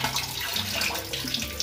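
Tap water runs steadily into a kitchen sink while grapes are washed, a continuous close splashing hiss with no talk.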